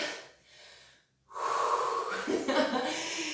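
Heavy exhaling and gasping for breath after a cardio workout, with a brief pause before loud, rough breaths resume close to the microphone.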